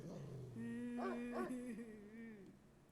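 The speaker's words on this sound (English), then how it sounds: "A dog is whining, like it's afraid of something." A dog in the visual novel Spirit Hunter: NG whines fearfully, one drawn-out, wavering high cry with two brief rising yelps, close and alone against a quiet background.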